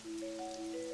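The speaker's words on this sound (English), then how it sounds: "Even through the rain." Rain falls in the video game Pokemon Pokopia, a steady close hiss that runs the whole second, with a couple of sustained tonal game notes layered over it.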